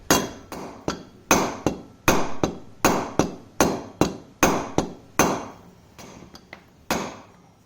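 A hammer taps a wheel bearing into a Honda 400EX ATV hub through a socket used as a driver, with about seventeen sharp, close metallic blows in an uneven rhythm, some landing in quick pairs.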